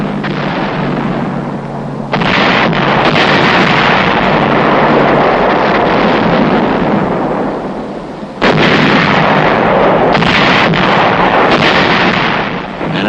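Heavy WWII artillery and aerial bombardment of the fortified island of Cézembre, a loud continuous roar of blasts and rumbling that swells, dips briefly, then surges again, dense and sustained throughout.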